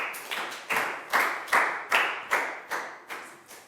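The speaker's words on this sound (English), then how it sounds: "Big round of applause for Net" Scattered handclaps in a Year 4 science classroom, about nine distinct claps in an uneven rhythm rather than full applause, moderately close and fairly quiet with no talk over them.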